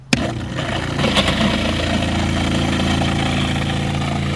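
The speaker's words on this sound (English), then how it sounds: "It's pumping into the onboard tank." An RV water fill pump switches on with a click and then runs as a steady, loud motor hum, drawing water from a jug into the onboard tank.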